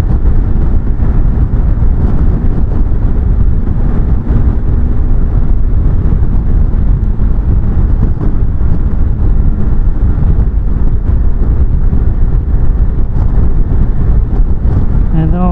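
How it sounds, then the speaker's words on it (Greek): Constant loud wind rumble buffeting against a motorcycle helmet on a QJMOTOR FORT350 ride, with steady low roar and engine noise underneath throughout. "Εδώ όντως υπάρχουν αρκετοί στροβιλισμοί επάνω στο κράνος μου."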